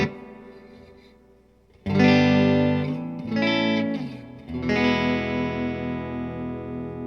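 Distorted electric guitar strums through a Fojill FTL 60 amp ring out with a wash of amp reverb, a few chords sustaining and decaying after a quiet start.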